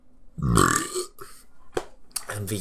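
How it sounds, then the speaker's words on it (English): One long, loud, deep burp up close, followed by a few shorter guttural sounds and bits of talking. "how loud can I fucking burp"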